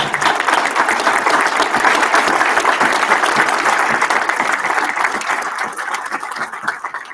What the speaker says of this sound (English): I would like to invite all of us to stand and with an applause, thank her